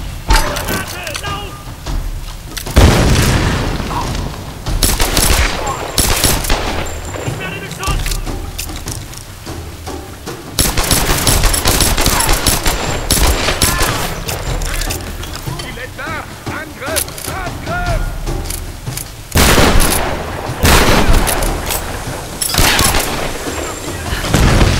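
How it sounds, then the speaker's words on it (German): Grenade launcher explosions and gunfire in a Tomb Raider video game, with repeated booming blasts and bursts of shots that come in loud clusters, under someone talking in German. "das ist cool und geil, ein Granatwerfer"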